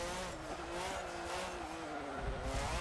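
A Renault Formula 1 car in Forza Motorsport 7 with its engine held at a steady high-pitched whine, loud and close, with slight shifts in pitch as the throttle changes.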